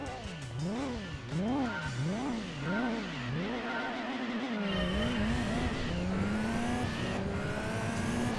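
Race car engine in the Gran Turismo 2 video game, revving up and down through rapid gear shifts, then a steadier high whine building with speed, with someone talking over it.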